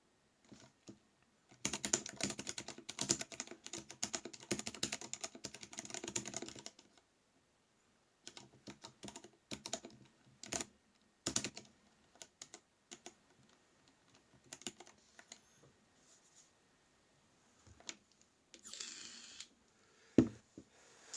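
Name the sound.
typing on a ThinkPad laptop keyboard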